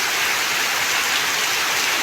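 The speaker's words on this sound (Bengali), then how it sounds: "এই যে দেখুন বৃষ্টি" Rain falls steadily beside a mosque in Bangladesh, a dense, even hiss of drops filling the whole moment with no voices.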